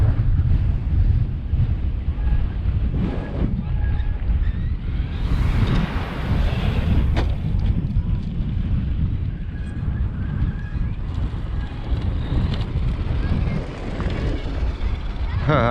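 Loud, steady wind buffeting a microphone outdoors, a constant low roar across the whole stretch, with faint voices underneath, at an RC car session with an Arrma Mojave 4S.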